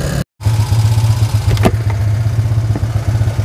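Motorcycle engine fitted with a 62mm PWK carburetor, running loud and close with a steady, rough low throb after a brief cut, a couple of sharp blips standing out as it struggles.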